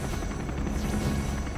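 A Comanche attack helicopter in Command & Conquer Generals Zero Hour makes a steady, close rotor and engine drone, loud and unbroken for about a second and a half.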